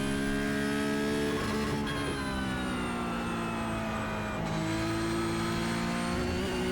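A Porsche GT3 Cup race car screams around Hockenheimring in iRacing, its engine held high and steady near the limiter with a bright, buzzy whine, shifting pitch slightly as it holds speed.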